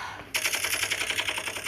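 A rapid burst of gunfire in the video game Ace Force, sharp evenly spaced shots rattling off close and loud after a brief quiet moment.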